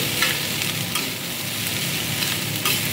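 Boiled, rinsed pasta being stirred in a pan, giving a continuous dense sizzle with occasional scraping stir sounds, close and fairly loud, with no talking.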